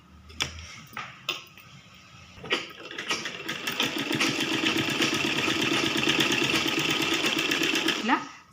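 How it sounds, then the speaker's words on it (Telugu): A few separate mechanical clicks come first, then a sewing machine runs in a fast, steady whir while stitching the folded hem of a baby frock, close by, before stopping. "లోపలికి మలిచేసుకొని ఈ విధంగా కుట్టు అనేది పెట్టేసుకోవాలి"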